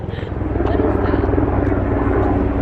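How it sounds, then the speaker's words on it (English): A helicopter's rotor thumps steadily overhead, loud and close, with a voice speaking briefly over the noise. "Oh, a helicopter."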